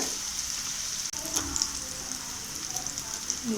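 Tomato rice masala with chili powder sautéing in oil in a pan, a soft continuous sizzle and crackle with occasional stirring scrapes, moderately close and steady throughout without talk.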